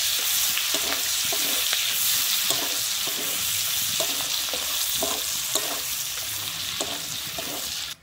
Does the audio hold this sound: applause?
no